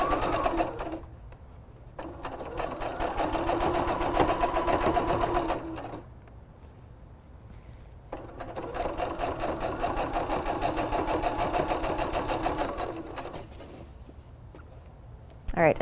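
Sewing machine stitching through a thick bath towel along its finished edge, two long runs of rapid, steady mechanical chatter separated by short pauses, close and clear.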